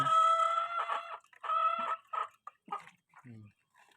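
A rooster crows loudly and close by, then a few short clucks follow.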